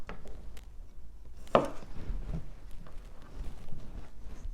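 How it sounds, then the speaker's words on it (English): A knife chopping the ends off a cucumber on a cutting board for a spicy Cambodian salad, a few close, crisp cuts with one sharper thud, no talking. "Let's get started with the cucumber. I'll just cut the ends off."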